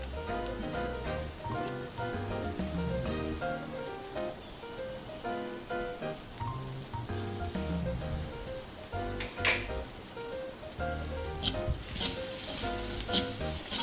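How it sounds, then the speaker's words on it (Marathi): Chopped garlic and ginger-garlic paste frying in hot oil for garlicky spinach, a steady crackling sizzle with scattered pops and occasional stirring, close and continuous with no voices. "ह्याला छान तांबूस रंग येईपर्यंत फ्राय करून घ्यायचा आहे"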